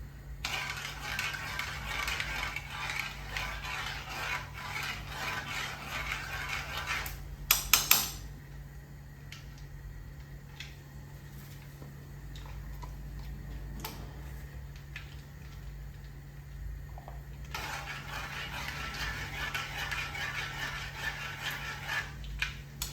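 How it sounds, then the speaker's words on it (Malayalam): A teaspoon of mustard seeds splutters in hot oil while lemon pickle is being made. Dense crackling and popping comes in loud stretches at the start and end, with a quieter middle and a sharp clatter around eight seconds. "എണ്ണ ചൂടായിട്ട് കടുക് ഇട്ട് കൊടുക്കണം. അല്ലെങ്കിൽ കടുക് പൊട്ടാതെ കിടക്കും,"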